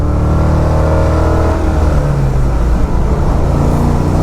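A rear-wheel-drive car with an LS engine swap accelerates hard on a wet road, its loud engine droning up through the revs with a brief dip where a gear change lands.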